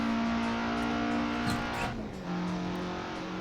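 A little Polonez car pulls on the Nürburgring, its engine droning steadily under load, then dipping as a gear shifts or the revs drop, continuing at a lower pitch; no talk.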